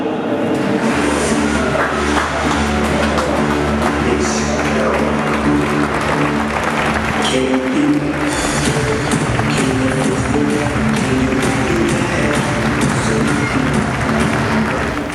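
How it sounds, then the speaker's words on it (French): Crowd applause greeting the new president of the En Avant football club at the 2011-2012 team presentation, loud and sustained throughout with dense clapping and a murmuring crowd. "sous l'applaudissement"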